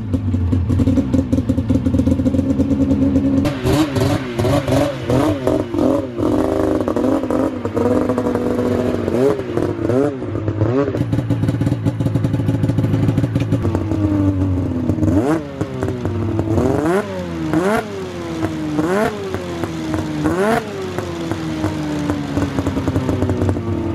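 Snowmobile engine fitted with an aftermarket race can exhaust, run on a stand: a loud steady idle, then a series of sharp revs rising and falling, close and alone.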